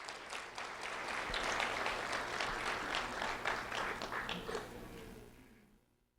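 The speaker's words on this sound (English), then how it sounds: "a round of applause for Josiah Crespo, please" Applause at a sheriff's office award ceremony honoring second grader Josiah Crespo, a room of people clapping quietly with individual claps audible, building briefly and then fading away to silence.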